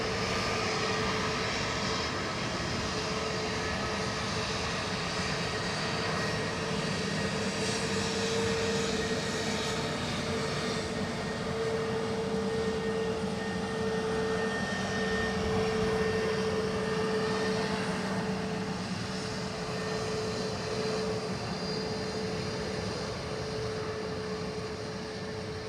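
Airliner on its takeoff roll from runway 10 right at Dublin Airport, a steady broad engine roar with a sustained whine, heard from a distance and holding for the whole stretch with no talk.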